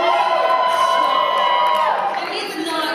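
A live convention panel audience cheers and whoops loudly and continuously, a dense crowd roar with scattered shouts that eases slightly toward the end.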